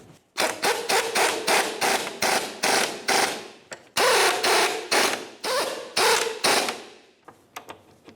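A ratchet wrench tightens strut mount nuts on a 1997-2003 Pontiac Vibe, giving a rapid run of loud, rhythmic clicking strokes up close, then a few faint taps as it stops.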